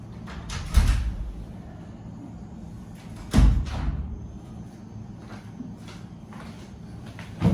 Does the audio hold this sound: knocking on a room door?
yes